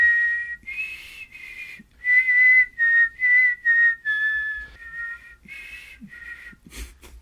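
A person whistles a simple tune alone, clear pitched notes in short phrases with brief pauses between them, close and fairly loud.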